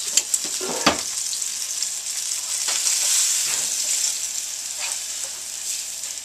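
Venison steaks fry in a pan with a steady, close sizzle throughout, broken by a few sharp clicks and pops as tongs move the meat.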